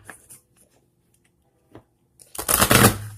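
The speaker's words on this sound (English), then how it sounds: "So I'm going to go ahead and get started with the shuffle." Oracle card decks, including a Crystal Insight deck and a Numerology deck, being shuffled: a few faint taps and rustles, then a dense burst of riffling card flutter close up near the end.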